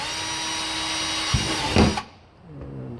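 A power drill bores screw holes in wood with a close, steady whine that rises briefly under load, then cuts off abruptly about two seconds in, leaving near-quiet.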